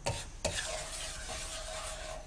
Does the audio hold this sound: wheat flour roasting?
yes